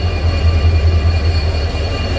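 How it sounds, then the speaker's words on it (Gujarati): A train arriving at a station rumbles steadily close by with a low heavy drone, ending abruptly. "આવી ગઈ છે ટ્રેન જો આ ટ્રેનના અવાજથી ઓલો બાબો ઉઠી ગયો"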